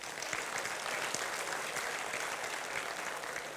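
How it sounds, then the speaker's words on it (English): Steady, dense applause from an audience at a university event in Pune fills the clip at an even level, with no break in the clapping. "Give a round of applause, please."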